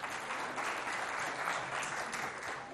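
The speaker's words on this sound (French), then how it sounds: "Applaudissements, s'il vous plaît." A school audience at a sack-race game event in Moundou claps in a dense, even wash of applause, faint and steady throughout the short stretch.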